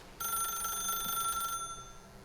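A telephone rings in the video game The Stanley Parable, a steady electronic ring with bright tones that holds for over a second, then cuts off, leaving quiet room tone.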